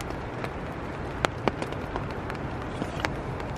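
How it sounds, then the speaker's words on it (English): Rain falls on a tent at night beside a lake in Grand Teton National Park, a steady close hiss with a few sharper drips tapping the fabric, and no voices. "It's been raining for several hours now."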